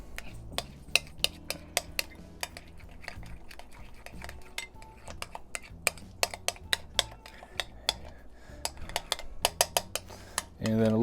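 Mayo and horseradish sauce is stirred with a metal utensil in a bowl, giving a run of sharp clinks and scrapes against the dish at an uneven pace, close and clear, with a brief soft voice near the end.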